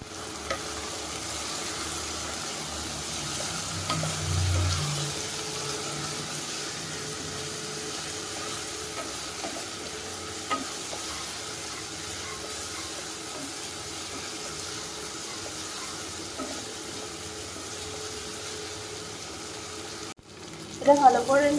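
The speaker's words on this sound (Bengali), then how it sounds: "এবার ভালো করে নেড়ে নিতে হবে।" Onion with ginger-garlic paste being stirred and fried in a pan for a home-style chicken curry, a steady low sizzle with soft scraping stirring running continuously, ending in a brief louder clatter.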